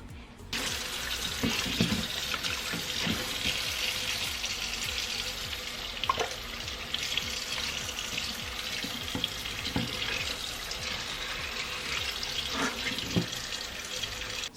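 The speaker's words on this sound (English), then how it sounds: "I'm gonna go ahead and wash these off." Crab legs rinsed under a running kitchen tap, a steady hiss of splashing water into a bowl, with occasional clinks and shifts as the legs are handled, close and continuous.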